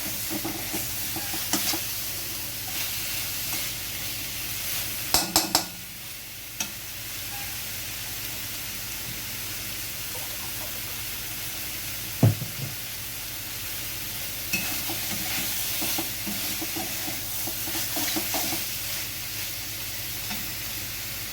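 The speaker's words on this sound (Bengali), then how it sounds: "এবার আমি এটাকে কষাতে থাকবো।" Boiled cauliflower curry being sautéed in a pan, a steady loud sizzle running throughout, with a few clattering stirring knocks and scrapes near the middle and no speech.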